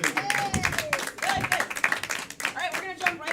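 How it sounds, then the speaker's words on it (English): An improv comedy audience claps for its players, a short burst of close, busy applause mixed with voices talking over it. "Clap for your players one more time"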